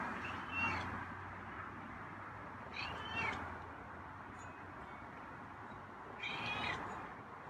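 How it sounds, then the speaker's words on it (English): Three raspy, hoarse meows from a feral cat, spaced a few seconds apart over a low outdoor background hum, fairly close but not loud. "got some really raspy meows"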